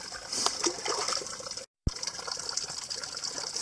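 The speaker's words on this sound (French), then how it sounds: "Une bonne douche froide avec de l'eau croupie." Cold, stagnant water from a makeshift shower at a mountain base camp gushes and splashes steadily, a continuous hissing spray broken by one brief gap of silence.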